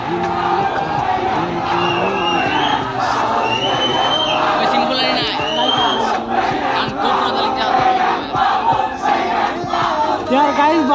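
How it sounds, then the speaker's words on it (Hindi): A large, dense crowd at a motorbike rider meet-up in West Bengal cheers, whistles and shouts all at once, loud and close, with overlapping voices and sharp whoops throughout. "कितना भीड़ हो गया है"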